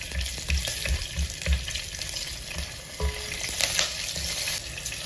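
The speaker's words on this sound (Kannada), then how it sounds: "ಒಗ್ಗರಣೆಯಲ್ಲಿ ಚೆನ್ನಾಗಿ ಕರಿಬೇವು ಹಸಿರು ಮೆಣಸಿನಕಾಯಿ ಎಲ್ಲ ಆಗಬೇಕು" Curry leaves and green chillies sizzle and crackle in hot tempering oil in a clay pot, a steady close frying hiss broken by soft bumps of stirring.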